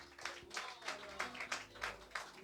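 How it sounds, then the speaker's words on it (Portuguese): A church congregation claps together in praise, steady rhythmic hand claps roughly every third of a second, fairly quiet and even, with faint background hum. "E as palmas assim louvam ao Senhor."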